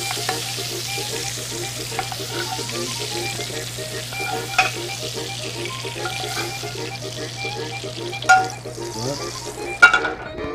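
Sea scallops frying in a hot pan with lard, giving a steady close sizzle with scattered pops and clinks and a couple of louder scrapes near the end, with a faint background hum.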